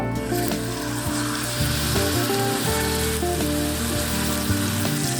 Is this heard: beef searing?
yes